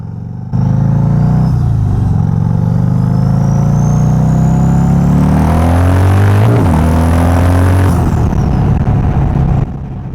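A motorcycle engine with new Fox rear shocks pulls hard during a ride, droning loudly and close with rising revs through the gears, a brief drop between shifts, then cutting off abruptly.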